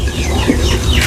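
Chickens cluck briefly at close range over a loud low rumble outdoors in rural Thailand, with no one talking.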